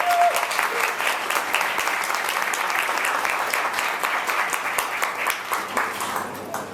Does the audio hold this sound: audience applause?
yes